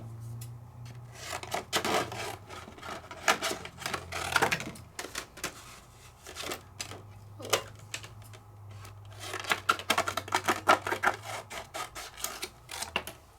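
Paper being trimmed by hand for die cutting, giving a close series of quick rubbing, slicing and scraping strokes in irregular bursts, fairly quiet with no talking.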